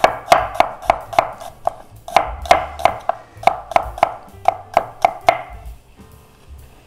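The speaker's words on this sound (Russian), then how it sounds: "Берем одну луковицу среднюю. И нарезаем ее вот так полукольцами." A knife chops quickly and rhythmically through a medium onion on a board, cutting it into half rings, crisp regular cuts in a steady run before pausing near the end.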